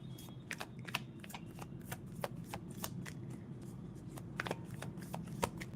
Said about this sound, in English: I'm busy shuffling the deck